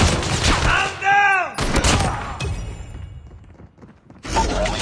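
Call of Duty combat: loud, close bursts of gunfire, a descending electronic whine, then quieter scattered shots before another burst at the end.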